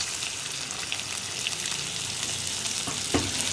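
Sliced onion fries in a pan for an eggplant curry as it is stirred, making a continuous close sizzle with faint scraping throughout.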